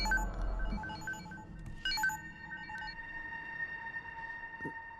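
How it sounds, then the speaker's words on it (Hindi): A mobile phone rings with an incoming call, a thin repeating electronic melody of tonal beeps that sounds fairly quiet and steady against a low background hum. "फिर से उसी का फोन है ना, उठाओ और बात करो।"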